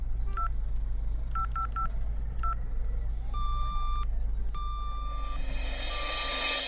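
A telephone number is punched in as a quick run of touch-tone dial beeps, some clustered and some spaced apart, then longer ringing tones before a rising hiss at the end.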